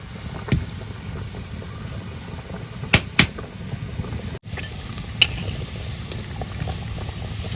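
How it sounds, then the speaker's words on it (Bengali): A pot of water boils with curd and bhola fish added, giving a steady close bubbling hiss with occasional sharp clinks and taps over it. "জল ফুটে গেছে"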